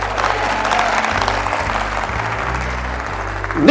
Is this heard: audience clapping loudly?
yes